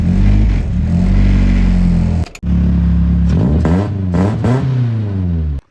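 BMW E36 318 four-cylinder engine catching after cranking, running loud and close with a steady idle drone, a brief cut-out near the middle, then revving up and down in several surges.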